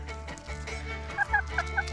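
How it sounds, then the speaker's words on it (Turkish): Chickens cluck in a backyard coop holding fancy breeds, with several close, loud clucks and short squawks layered over a steady low hum, bunched mostly in the second half. "tavuklarım."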